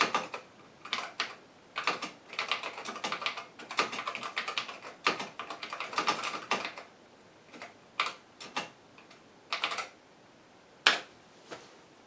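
Keys clack on a DECWriter IV teleprinter keyboard, a run of brisk irregular taps that bunch into quick flurries, then thin to scattered single strokes with pauses between, close and fairly crisp, no talking.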